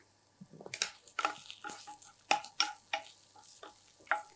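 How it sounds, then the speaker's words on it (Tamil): Onions being sautéed in a pan for cabbage chutney, a quiet soft sizzle under a series of distinct spatula scrapes and stirring strokes in an uneven rhythm, no talking. "இப்போ இந்த வெங்காயம் வதங்கிடுச்சுங்க."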